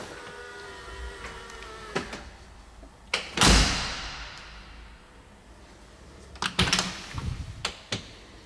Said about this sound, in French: Et petit claquage de porte.